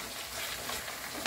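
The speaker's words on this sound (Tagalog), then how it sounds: "Pagluto na siya, yung karne at saka yung kamote, nilagay na natin yung gulay." Meat and sweet potato with vegetables sizzle in a hot pan for Korean spicy chicken stir fry, a dense, steady, close frying hiss throughout with one small clink at the end.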